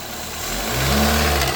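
A 2013 Chevrolet Malibu 2.5 engine is given gas, its hum rising in pitch and loudness over about a second from a low idle, close and continuous.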